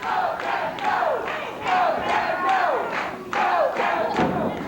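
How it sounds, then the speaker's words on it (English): Wrestling arena crowd chanting and yelling in loud, rhythmic surges that swell and repeat, with occasional thuds from the ring beneath the noise. "The crowd begins to chant and yell for Kevin Von Erich"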